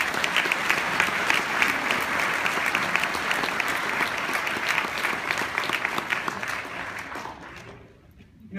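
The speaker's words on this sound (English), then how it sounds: "Can we just have one more round of applause for the incredible courage that was shown?" Audience applause at an evening talk, a full and steady roar of many people clapping that holds for about seven seconds before fading out, with a voice faintly underneath.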